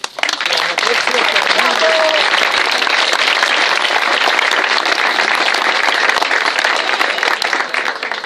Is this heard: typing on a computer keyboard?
no